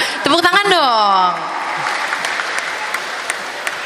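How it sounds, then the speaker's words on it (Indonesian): An audience at an inspirational talk show event in Palu breaks into applause right after a voice speaks, a steady wash of clapping from a crowd that continues under rising chatter and fades gradually. "Tepuk tangan dong."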